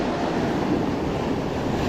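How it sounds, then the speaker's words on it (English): Heavy ocean swell crashes against coastal rocks at Batemans Bay, a steady, loud, broad roar of surf and wind with no talk. "we've also got to watch the waves coming in. As you can see, there's a lot of power in that"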